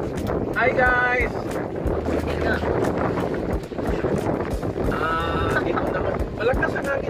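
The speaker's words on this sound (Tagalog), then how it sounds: "Malakas ang hangin, guys." Strong wind buffets the microphone in heavy rumbling gusts while people talk and call out over it, outdoors on a fishing trip.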